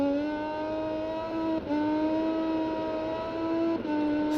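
A motorcycle engine in the video game MotoGP 20 holds a high, steady whine at near-constant revs, dipping briefly twice as gears shift, loud and continuous.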